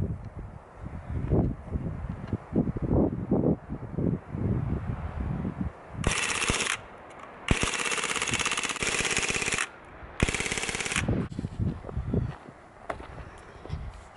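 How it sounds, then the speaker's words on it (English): Full-auto gunfire in rapid sustained bursts, a mag dump, with three loud broadband bursts of roughly one to two seconds each separated by short pauses, loud and close, framed by low rumbling handling noise before and after. "When you are shooting full auto, you need to do a full mag dump every single time."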